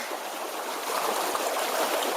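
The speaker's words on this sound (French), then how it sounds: "On est dans un rapide qui court bien." Rushing river water as a canoe runs a fast rapid on the Aubetin, a steady broadband wash and gurgle close by with no voices.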